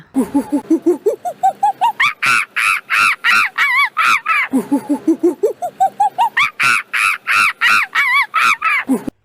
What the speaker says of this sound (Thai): เสียงของลิง